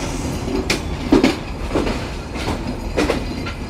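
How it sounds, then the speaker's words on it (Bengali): The Intercity Rupsha Express pulls out of platform 1 at Khulna railway station, wheels clacking in an uneven rhythm with rumbling cars and brief screeching accents, fairly close and steady. "আমাদের ট্রেন ইন্টারসিটি রূপসা এক্সপ্রেস একদম নির্ধারিত সময় ছেড়ে দিল"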